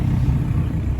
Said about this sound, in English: Modern day Audi R8 just arrived. V10, goodness.